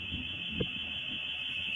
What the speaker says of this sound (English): their house alarm starts to go off